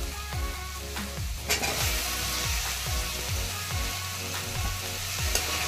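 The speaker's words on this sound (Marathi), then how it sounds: "वांगे आपल्याला छान परतून घ्यायचे आहे।" Eggplant sautéing with spices and salt in a pan, a continuous close sizzle broken by repeated spatula scrapes and stirring knocks, with no talk.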